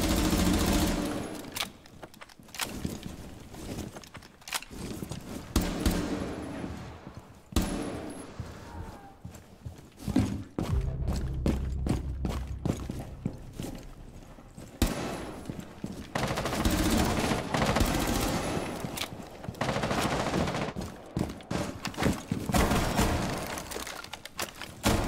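Rapid bursts of gunfire from a video game shooter, loud and repeated over a steady game soundscape, with dense volleys in the middle and end and brief gaps between them.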